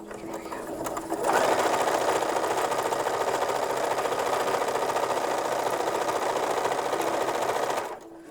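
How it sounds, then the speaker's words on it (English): A sewing machine stitches a narrow first pass of a French seam on a 1930s–40s style infant slip, starting after a quiet moment and running steadily and close up for several seconds before stopping. "we'll get to sewing them on the machine"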